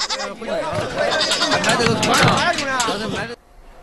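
Goats bleat over and over at a busy live goat market, layered cries close and farther off with a steady crowd murmur underneath, ending abruptly.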